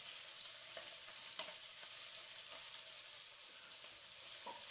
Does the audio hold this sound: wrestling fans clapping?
no